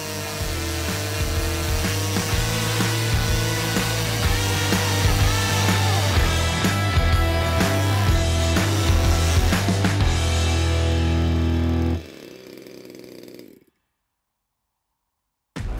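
A Stinger 15cc gasoline RC plane engine runs steadily and loudly for about twelve seconds with a constant buzzing drone, then cuts off, leaving a brief quieter tail before silence.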